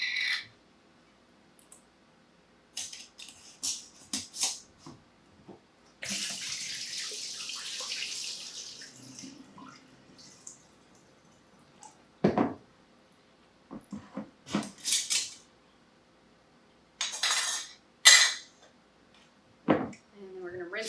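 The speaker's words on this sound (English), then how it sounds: "So we're going to go ahead and drain this water out." Water splashes and trickles out of a jar of soaking nuts and seeds in short, uneven bursts, with a longer pour in the middle, and scattered clinks between them.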